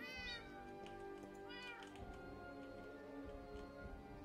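Two or three drawn-out meows from a cloned Minecraft cat, soft and near, spaced apart over a continuous low background drone.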